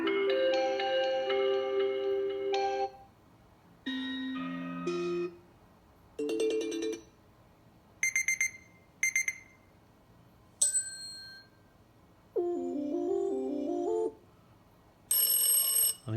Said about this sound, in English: we got some celebrity alarm timer sounds